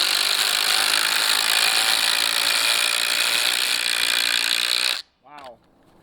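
Ridgid Octane and Makita quick shift impact drivers drive bolts together, a loud steady hammering rattle with high whine lasting about five seconds before stopping suddenly, followed by a short voice.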